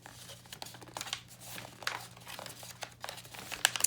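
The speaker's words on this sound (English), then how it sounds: "You're going to fold it like so." Paper is folded and pressed over the edge of a book, crinkling and rustling close by in a run of uneven, crisp bursts with no talking.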